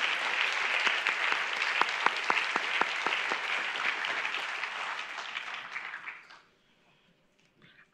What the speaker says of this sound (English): let's give these outstanding individuals another round of applause